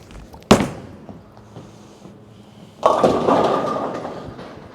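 A bowling ball, a Motiv Supra Enzo, lands with a sharp thump, rolls in a quiet rumble, then strikes pins in a broad crashing clatter that slowly fades, with no talking.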